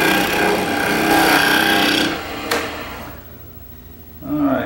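A wood lathe gouge takes a light cut on a turned photo holder, giving a loud, rough shearing hiss that stops abruptly and leaves a quieter motor hum.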